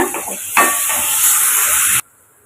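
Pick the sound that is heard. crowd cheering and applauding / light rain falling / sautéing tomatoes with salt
sautéing tomatoes with salt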